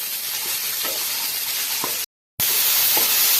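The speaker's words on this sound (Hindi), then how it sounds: "थोड़ा सा तेल डालेंगे फ्राई पैन में और ये तमाम सब्जियां डालेंगे। इनको हल्का सा फ्राई कर लें।" Vegetables frying lightly in a little oil in a frying pan, a steady dense sizzle and hiss with a few faint clinks, broken by a short cut of silence before the sizzling resumes, no talk.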